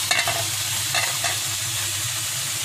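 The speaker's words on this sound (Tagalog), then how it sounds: "I-grill na natin." A giant squid sizzling on a grill, a steady dense crackle close up with a few stirring scrapes near the start and no talking.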